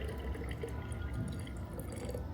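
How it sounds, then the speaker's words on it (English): Water pouring into a jar until it is about halfway full, a steady close gurgling fill with bubbling and splashing that stays even throughout. "So water, just fill it like halfway up the jar."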